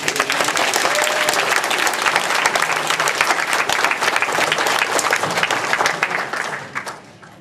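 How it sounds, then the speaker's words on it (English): Warm, sustained applause from a convention panel audience at an anime expo, dense clapping filling the room steadily before tapering off at the end. "can we get a warm round of applause?"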